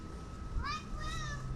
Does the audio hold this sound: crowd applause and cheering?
no